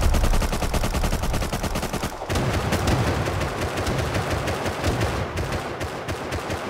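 Rapid gunfire in the survival video game Rust during a base raid, with dense automatic bursts and repeated shots running loud and continuous throughout.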